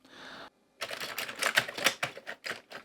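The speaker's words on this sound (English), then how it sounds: "I'm doing the ham-fisted keyboard technique" Keys on a Commodore Amiga CDTV keyboard are struck hard and fast in a clattering burst of irregular, close, loud clicks, after a short hum and a brief pause.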